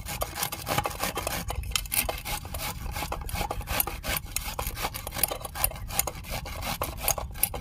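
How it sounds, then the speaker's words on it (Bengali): Young ridge gourds being rubbed against a grater, producing a rapid, uneven series of close, rasping scrapes with no talking. "ঝিঙেগুলো আমি ঘষে নিচ্ছি।"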